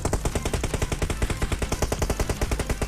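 Rapid automatic gunfire in the mobile battle game PUBG Mobile, a fast, steady burst of sharp shots lasting about three seconds at moderate loudness with no talk.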